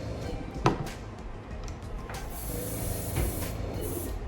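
An airbrush loaded with white paint sprays in short, faint hissing bursts under low room noise.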